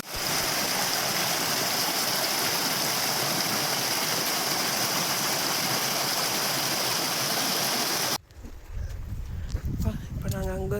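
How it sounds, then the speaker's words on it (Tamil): Small waterfalls and a stream pour in a steady, loud broadband rush on a forest trek, cutting off abruptly near the end and giving way to quieter outdoor sounds. "கீழே பார்த்தீங்கன்னா குட்டி குட்டி ஃபால்ஸ் எல்லாம் இருக்குது"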